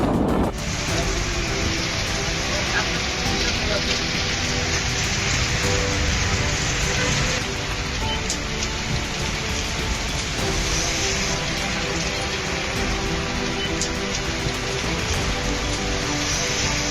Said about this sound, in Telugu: పెద్ద వాన దంచింది కాదోల్లా